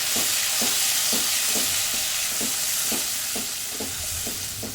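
Tomato puree cooks with sautéed garlic in a pan for a Gujarati whole-onion curry, giving a loud, continuous sizzle close up, punctuated by about nine evenly spaced stirring strokes of a spoon; no voices.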